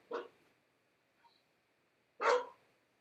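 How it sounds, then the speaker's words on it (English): A dog barking indoors during a live art show, two separate loud barks about two seconds apart with a faint squeak between them and quiet otherwise. "Can you hear the dog?"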